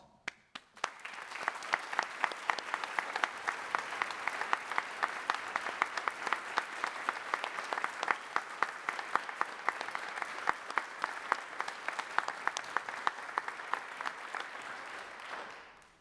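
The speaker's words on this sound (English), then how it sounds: "With a rounding ring of applause." Audience applause following a speech, a steady, even patter of many hands clapping, rather faint and distant, that begins sharply, holds for over a dozen seconds and then tapers off at the end.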